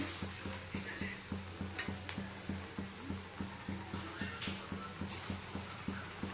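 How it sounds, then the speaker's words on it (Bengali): Round besan-coated balls fry in hot oil, giving a steady, quiet sizzle with a regular ticking pulse running throughout, no voices over it. "এবার একটু গোল গোল করে ভেজে নিই যে তেল দিয়ে দিয়েছি"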